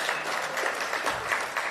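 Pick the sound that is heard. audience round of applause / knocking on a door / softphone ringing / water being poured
audience round of applause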